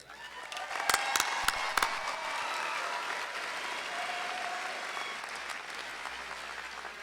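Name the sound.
audience applause for the principal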